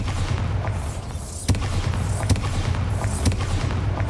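A Bombarda blasting spell explodes in Hogwarts Legacy, giving sharp booming blasts at about one-second intervals over a steady low rumble, with no voices.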